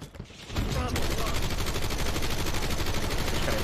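Sustained rapid automatic gunfire in Call of Duty: Black Ops 6 on the Nuketown map, shooting through a fence, loud and continuous after a brief quiet start.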